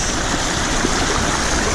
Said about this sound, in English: now we gotta cross this river to make it to that side